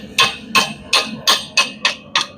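Hot steel chain hook struck on an anvil during blacksmithing, seven sharp ringing hammer blows in a steady rhythm, close and loud with no talking.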